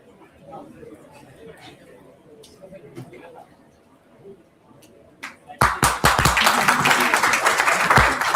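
Loud applause and clapping from a conference audience welcoming a keynote speaker at a physiotherapy conference, erupting suddenly after quieter murmuring and chatter and continuing strongly to the end.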